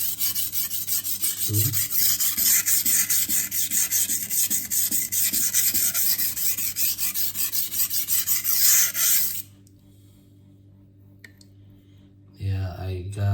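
A knife blade is stroked across a 400-grit Cheefarcut sintered diamond stone in a rapid run of rhythmic, gritty rasping strokes that stop abruptly, followed by quiet and a brief spoken word.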